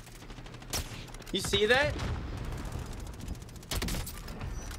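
Gunfire in Warzone: a few sharp shots and a short burst, loud and near, mixed with a rising whine and someone talking over it.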